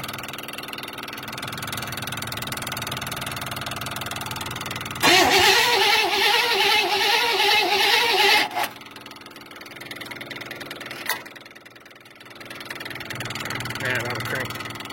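A 1957 Chevy engine turns over under the starter and catches, running loudly for a few seconds before dropping back, with a steady hum around it and another short burst later.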